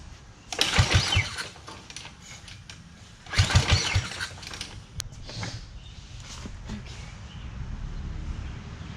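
A go-kart's small engine, newly fitted with a carburetor, is cranked in two loud pull-start bursts before sputtering briefly and settling into a faint, uneven running hum.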